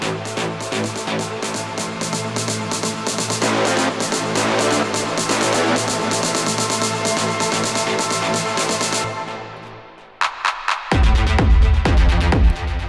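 A peak-time techno build-up made in Ableton plays alone: dense driving layers fill about ten seconds, cut to near silence with a clap marking the half bar, then the heavy drop slams in.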